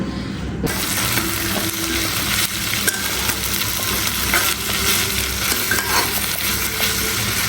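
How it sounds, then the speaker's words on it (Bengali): Sliced eggplant frying in a pan of hot oil, a steady close sizzle with scraping stirs running unbroken throughout, no voices. "এখানে বেগুনটা ভাজি করে নিয়েছি"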